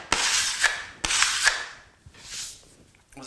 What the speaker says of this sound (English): I've forgotten to show you how I scrape this